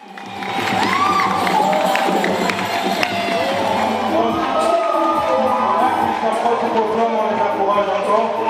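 An audience at a university cultural exhibition breaks into loud cheering, whooping and clapping, the crowd noise swelling quickly and staying busy and lively, with shouting voices mixed through it.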